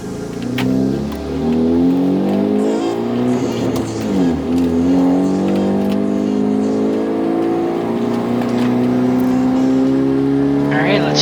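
Hyundai Genesis Coupe with a freshly rebuilt engine, circling a race track at a slow warm-up pace; a loud, steady engine drone holds close throughout with gentle rises in revs, and a voice talks over it.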